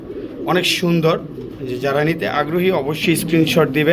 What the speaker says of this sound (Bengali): এক জোড়া লাহোরি কবুতর, রেড বার্ড দেখতে পাচ্ছেন